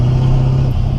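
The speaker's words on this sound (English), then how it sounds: "Got that little turbo noise." Turbocharged engine of a 1979 Rolls-Royce, a steady, loud low drone held for about a second with no distinct blow-off release.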